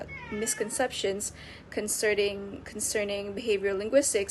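A house cat meows several times in short, clear cries, mixed in with continuous speech from a person talking nearby.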